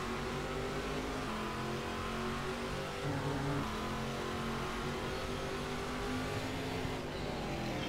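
Stock car racing engine from Game Stock Car 2012 at the Rio circuit, heard onboard as a steady, loud droning roar with shifting revs and a brief surge midway, no voices.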